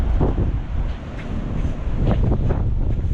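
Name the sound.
wind blowing on a beach in Mozambique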